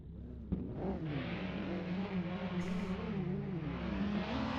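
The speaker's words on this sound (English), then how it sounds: "lights are up, engines are revving." Race car engines revving on the grid at Sonoma Raceway, a mix of rising and falling engine notes layered together, moderately distant and fairly quiet, with no talk.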